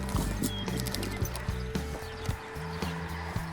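Horse hooves clip-clop irregularly on a hard surface at a ranch, a few clear knocks among soft shuffling and rustling, fairly close, with no talking.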